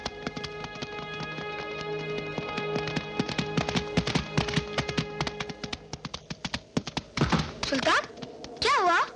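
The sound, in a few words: horse hooves clip-clopping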